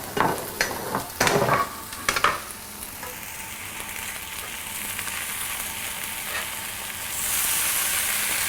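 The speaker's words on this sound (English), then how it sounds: "And we're sizzling." A chicken and spinach quesadilla fries with a steady sizzle in a pan, with a few louder clatters and scrapes near the start, then a hissing rise toward the end.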